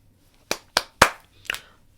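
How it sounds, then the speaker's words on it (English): Four sharp hand claps, the last a bit softer, ring out close together in a quiet room as a brief round of applause. "Round of applause."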